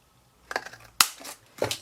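Scissors or a blade cutting through thin box material, three short crisp snips spaced about half a second apart, close and clear with no talking.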